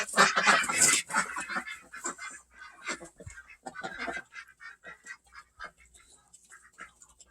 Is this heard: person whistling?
no